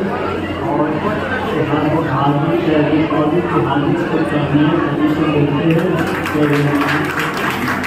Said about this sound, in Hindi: क्या बात है, जोरदार तालियां।